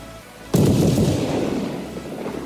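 A battleship's main guns fire shells in World of Warships, one heavy booming salvo that rings out and slowly fades into a low rumble.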